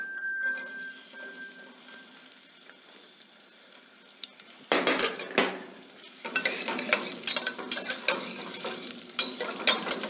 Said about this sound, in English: We saute the onion on low heat till it's slightly brown in color.